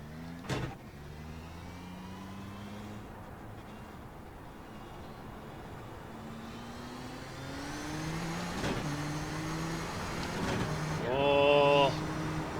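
A Nissan GTP ZX-T race car in the iRacing game revs and pulls through gears, with rising engine tones repeating after each shift, steady road rumble underneath and a sharp high whine near the end.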